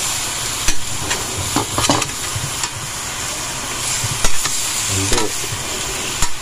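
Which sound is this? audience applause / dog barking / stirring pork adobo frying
stirring pork adobo frying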